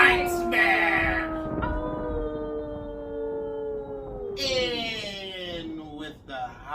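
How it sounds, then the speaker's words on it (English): A wolf lets out a long, rising and falling howl that starts loud and close, then tapers off before a second, higher howl joins near the end. "With the howling of the wolf, we will get this night started."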